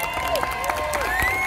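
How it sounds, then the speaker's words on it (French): A crowd at Disneyland Paris claps and cheers for a special-effects attraction team member, lively applause with whistles and shouts mixed in. "Merci de l'applaudir très fort."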